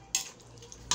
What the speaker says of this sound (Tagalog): Haluin natin yung sibuyas bawang.